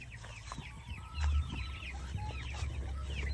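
Broiler chickens cluck repeatedly in a backyard flock, close and fairly loud, with a low thump or rustle partway through and no talking.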